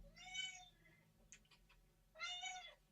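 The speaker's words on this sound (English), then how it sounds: "That's Lucy the cat." A house cat meows twice, close and fairly clear, with a short pause holding a few faint clicks between the two calls.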